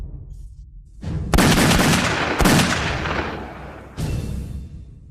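Loud firecrackers burst in an action film scene, with sharp cracks at about one, one and a half, two and a half and four seconds over a continuous rumbling crackle.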